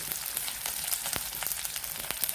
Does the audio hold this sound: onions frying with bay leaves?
yes